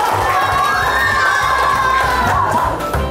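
A group of children cheers and shouts loudly together, steady and close, during a trial of free nutritious school meals; any clapping is buried in the crowd noise.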